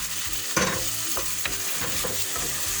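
A splash of water hitting tomato paste frying in a pan for a chickpea and sucuk stew, giving a lively sizzle with repeated stirring scrapes and clacks up close.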